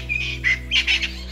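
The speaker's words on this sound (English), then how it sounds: "a spurfowl, picking among the dried leaves below a nearby bush" A spurfowl picking among dried leaves beneath a bush at evening gives a harsh, squawking cry in several quick rising notes, close and fairly loud over a steady low hum.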